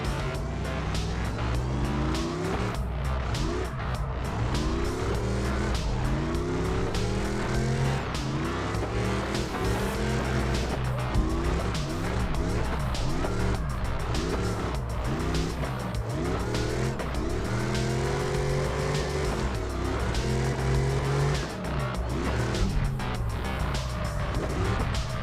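A car drifts around a track in a racing video game, with a loud continuous engine roar rising and falling through revs and squealing tires, unbroken for the whole stretch.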